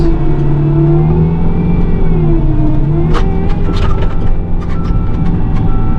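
A skid loader pushes together loads of stone from triaxle trucks, its engine roaring loud and close and revving under load, with scraping clanks as the stone shifts.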